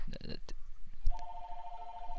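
A telephone rings with a steady electronic tone that starts midway and continues to the end, following brief speech and a thump at the start.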